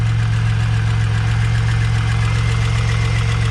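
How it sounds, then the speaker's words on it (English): A supercharged Pontiac Bonneville SSEi with a new L67 engine and ZZP cam idles loudly and close by, a dense steady drone carrying a fast ticking pattern from an exhaust leak. "it does actually sound like an exhaust leak"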